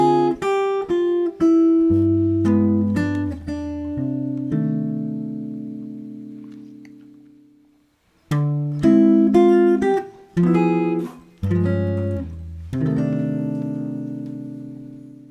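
Clean jazz guitar plays a sequence of rich chords and plucked notes, with a long ringing chord that fades before the phrase resumes.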